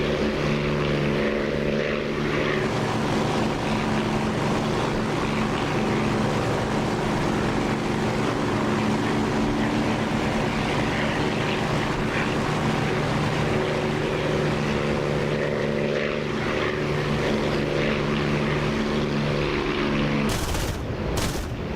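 A Spitfire's propeller engine drones steadily in the DCS flight simulator game, a continuous loud airscrew roar that holds for the whole stretch and cuts off abruptly near the end, with no voices.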